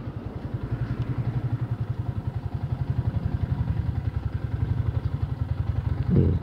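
Motorcycle engine running steadily while being downshifted, its close, even low-pitched putter continuous throughout with a slight rise in revs near the end.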